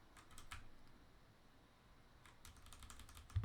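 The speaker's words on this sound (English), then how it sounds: "I already started typing it in ChatGPT" Typing on a computer keyboard during a programming session, with two quick bursts of soft key clatter separated by a short pause, close and quiet against faint room noise.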